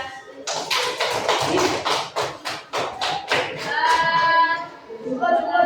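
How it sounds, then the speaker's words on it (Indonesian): An elementary classroom applauds a student group with a quick burst of many hands clapping. The clapping then fades into children's voices. "Tepuk tangan untuk kelompok 3."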